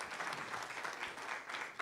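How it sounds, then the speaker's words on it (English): A round of applause for a panel of speakers at an event, with steady dense clapping from an audience at moderate volume throughout. "I would have a round of applause for our panelists."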